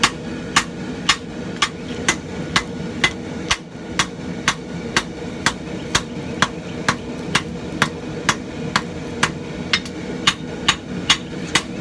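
Steady hammer blows ring out on a knife blade being forged to lengthen it and even out its thickness, about two sharp metallic strikes per second in a regular rhythm, close and loud over a low workshop rumble.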